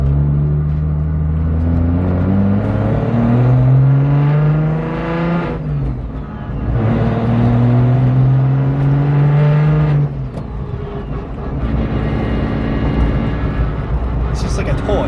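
A 750 horsepower BMW 135i drives and revs hard, its engine pitch climbing through repeated gear pulls with short dips between shifts, loud and close from inside the car.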